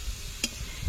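Spices with Kashmiri red chili powder frying in a pan for a prawn curry, a short soft sizzle with one quick scrape of a spatula in the middle.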